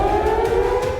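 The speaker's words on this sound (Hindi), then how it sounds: "धमाके के बाद यरूशलेम में भी सायरन बजते सुनाई दिए।" Air raid sirens sound in Jerusalem, a loud, steady, droning civil defense wail held at one pitch throughout the brief moment, with no voices.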